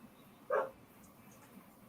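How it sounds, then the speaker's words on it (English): A single short dog woof comes from a distance, faint against a quiet indoor room, with one more sharp sound right at the end. "I heard a woof."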